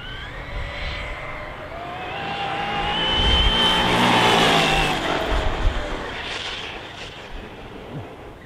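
An HBX T6 RC desert buggy, stock with two-wheel drive, makes a speed pass: a high electric motor whine builds in pitch and loudness toward the middle, then tails off as the buggy slows, with a continuous road rush underneath.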